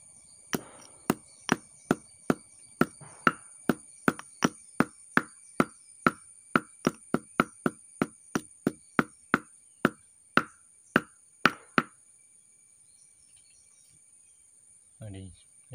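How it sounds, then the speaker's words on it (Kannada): Three cardamom pods crushed for mango juice, a steady series of about twenty sharp, even pounding knocks close up, then quiet with a faint thump near the end. "ಏಲಕ್ಕಿಯನ್ನು ಕೂಡ ಜಜ್ಜಿ ಬಿಟ್ಟು"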